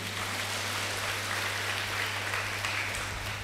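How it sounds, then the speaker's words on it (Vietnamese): A children's audience at a Buddhist temple retreat gives sustained applause, a dense, even wash of clapping that holds steady for a few seconds under a constant low hum. "Các con cho các cô chú, các anh chị một tràng pháo tay thật lớn đi"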